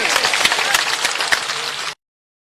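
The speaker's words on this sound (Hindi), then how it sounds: "दोनों तालियों से हाथ बजा करके अभिनंदन करें" A crowd at a Congress party public rally in Shahpur, Betul district, claps in welcome, a dense burst of applause lasting about two seconds before cutting off abruptly.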